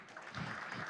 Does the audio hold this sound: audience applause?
yes